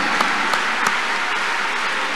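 A church congregation clapping their hands together in worship, a dense, steady wash of applause with a few sharper claps standing out near the start.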